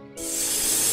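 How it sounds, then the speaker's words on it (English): A taipan snake lets out a sudden, steady hiss that starts sharply and holds at a constant level for about a second, close and fairly loud. "Taipan."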